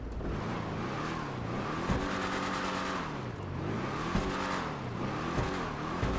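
A 1955-based muscle car from the GTA 5 Online Halloween update idles and revs with a steady low engine rumble, rising and falling in pitch through several throttle swells, close and continuous with no one talking.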